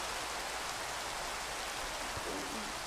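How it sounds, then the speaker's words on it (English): Steady rain in Five Nights at Freddy's, a soft, even hiss of falling water throughout, faint and without talking. "I'm gonna go home because it's raining bad."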